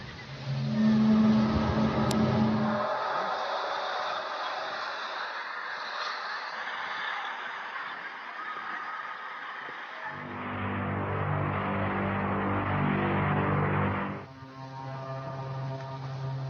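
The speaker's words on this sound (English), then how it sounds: "the so-called sky trumpets, long metallic groans, like an ancient machine groaning to life." Long, sustained metallic groans from the sky, the so-called sky trumpets, droning steadily with layered tones that shift pitch partway through, loud and continuous with no voices.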